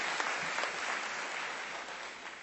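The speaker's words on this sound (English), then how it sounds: "Give yourselves a round of applause" A crowd at a college graduation ceremony gives a sustained round of applause, a dense steady wash of clapping that fades slightly toward the end, with no talking over it.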